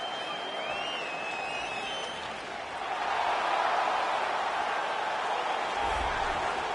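A UFC video game arena crowd roars and cheers during a fighter's walkout to the octagon, a steady wash of crowd noise that swells partway through, with no talking.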